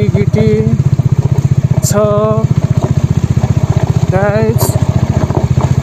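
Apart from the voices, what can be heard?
Bajaj Dominar motorcycle riding on gravel road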